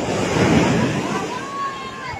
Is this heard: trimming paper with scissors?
no